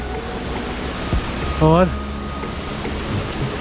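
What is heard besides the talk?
waterfall and rushing water on the Kedarnath trek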